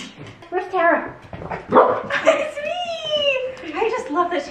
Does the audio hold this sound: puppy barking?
yes